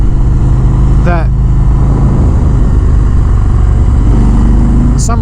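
A 2019 Harley-Davidson Road King Special rumbles steadily underneath during a ride, a low continuous engine drone with a few brief higher chirps, while a person talks over it.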